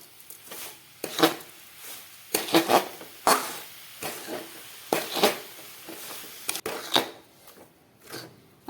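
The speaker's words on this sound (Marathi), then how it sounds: "आता हे सतत असं हलवत राहायचंय" A spoon stirs coconut barfi mixture with milk in a pan on the stove, making repeated scraping and clinking strokes against the metal in an uneven rhythm, close and fairly quiet, with no voices.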